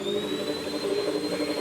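Vacuum cleaner sound effect substituted into a FNAF video game, a steady whirring drone with a thin high whine held throughout, close and moderately loud.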